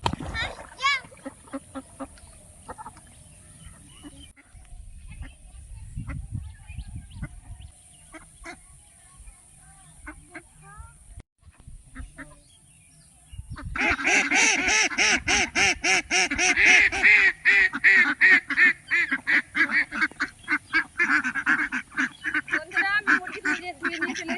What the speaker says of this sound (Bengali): হাঁসগুলো আমার পিছন পিছন চলে আসছিল